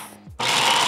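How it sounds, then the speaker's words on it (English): A blender bursts into a loud whirring pulse as it purees ginger and garlic, a brief quiet moment followed by a steady high-pitched grinding roar. "And let's blend away."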